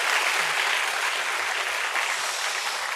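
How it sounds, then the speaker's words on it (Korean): A church congregation applauds in praise during an evening service, a dense, steady wash of many hands clapping at once, close and loud, filling the whole stretch without pause or spoken voices. "우리 여호와 하나님께 찬양 박수를 드립시다."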